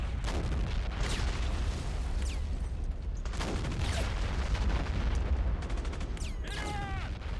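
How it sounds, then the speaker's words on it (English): Tank rounds and grenades burst in a steady barrage in Sudden Strike II, dense crackling gunfire and repeated booms layered under a continuous battlefield rumble, a few whistling shells mixed in. "Some grenades in there. Yeah, all them tank rounds going in."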